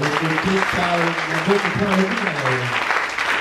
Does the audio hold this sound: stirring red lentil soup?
no